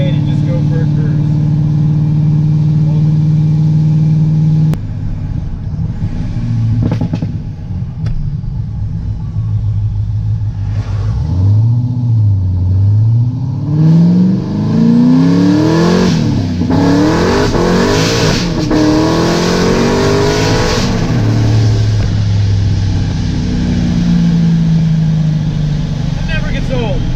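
1000+ HP Corvette accelerating hard on a Mexican highway, a loud close engine roar with rising revs climbing through gears and a deep rumble throughout, with talk over it.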